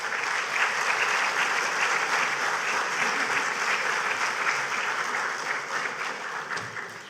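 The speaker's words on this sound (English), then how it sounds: "give him another round of applause for that" Steady, sustained applause from a conference audience at a Grenadian cultural and creative industries event, dense clapping filling the room at an even level for the whole stretch.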